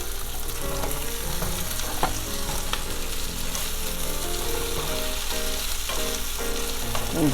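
Tofu cubes fry in a pan alongside sizzling garlic, ginger, onions and peppers in sesame oil, a loud continuous crackle broken by scraping stirs and occasional utensil clicks.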